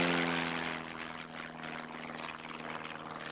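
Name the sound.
Jaguar jet aircraft spinning during flight test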